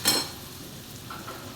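Turmeric, red chilli and Byadgi chilli powder fry in hot oil for masala okra, a brief loud crackling burst at the start easing into a steady soft sizzle.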